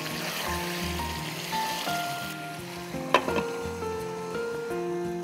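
Beef for kala bhuna frying over high heat on a gas stove, a steady loud sizzle with stirring scrapes and a sharp clatter partway through, with music playing underneath.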